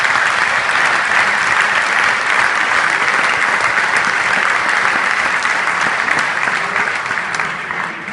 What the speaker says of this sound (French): je vous demande aussi de l'applaudir